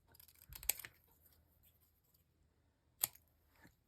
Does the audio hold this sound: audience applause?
no